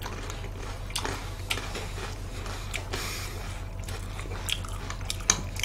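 Close crunching and biting of chocolate-coated balls during a mukbang, with sharp, scattered crunches over a steady low background hum.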